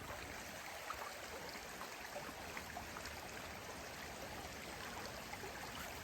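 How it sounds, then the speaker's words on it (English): A stream flows steadily beside a hiking trail, a soft, even wash of running water at moderate distance with no talk over it. "We're right by a stream."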